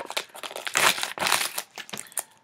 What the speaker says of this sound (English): Let me open up the package so you guys can see what it is.